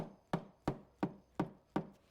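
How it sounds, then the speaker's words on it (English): Five evenly spaced sharp taps on a metal engine part of a 2003-2006 Acura MDX during valve lash adjustment, each crisp knock decaying quickly, close and fairly quiet. "Give it a tap."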